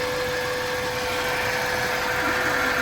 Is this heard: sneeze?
no